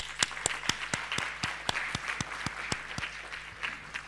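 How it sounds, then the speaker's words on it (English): Sparse, rhythmic clapping from convention delegates at a youth agricultural climate-change gathering, fairly faint and distant, with distinct individual claps over a low steady hum. "we want to give you a nice round of applause"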